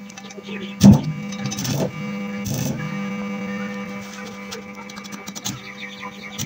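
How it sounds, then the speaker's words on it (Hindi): Stick welding by hand on a small home job, giving a steady buzzing crackle with a low electrical hum underneath, broken by a few sharper bursts and pops. "तो एक तरफ से जी वेल्ड मैंने कर लिया"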